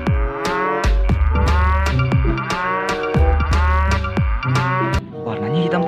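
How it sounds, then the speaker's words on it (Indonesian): A black-and-white dairy cow in Jurassic World Evolution 2 moos in a series of loud, drawn-out calls over a steady game background, with a string of sharp clicks, no talk. "Kita mulai sapi perah ini."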